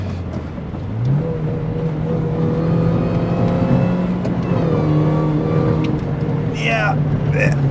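A modified Mini Cooper S R53 hot hatch revving hard while driving on the road, the engine note climbing and holding loud and close with brief shifts, a voice speaking over it near the end.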